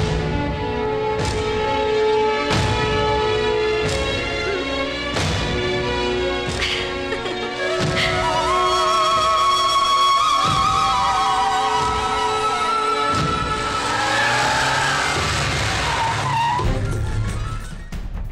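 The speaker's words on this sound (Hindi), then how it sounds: "ए, जल्दी गाड़ी स्टार्ट कर, जल्दी चलना है।" Car in a Hindi action movie scene revving and pulling away with tires skidding and squealing, loud and close, over a dense, rhythmic stretch of dramatic soundtrack hits.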